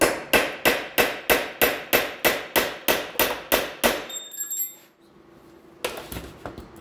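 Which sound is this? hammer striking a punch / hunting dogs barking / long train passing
hammer striking a punch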